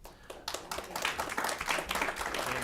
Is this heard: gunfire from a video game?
no